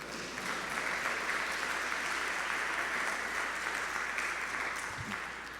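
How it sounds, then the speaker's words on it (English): Sustained applause from a crowd, steady and dense clapping filling the room for several seconds before fading slightly at the end. "Please welcome him with a round of applause, Brother Student Minister Tariq Muhammad."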